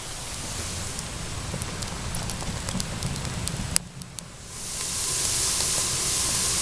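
Steady rain falls outdoors as a dense, even hiss with scattered drops, dipping briefly before swelling louder again.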